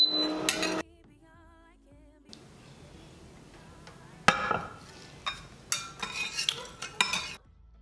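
A utensil stirs infused oil in a pot on the stove while hair butter is being made, giving quiet scraping and clinking strokes that turn into sharper, irregular metallic knocks against the pot.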